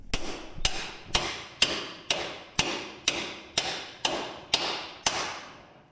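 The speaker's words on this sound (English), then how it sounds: "I have to hammer in these tubes to get measurements" Metal tubes are hammered into place in a shop, eleven sharp ringing blows struck at a steady, even rhythm about half a second apart, close and loud, each decaying quickly.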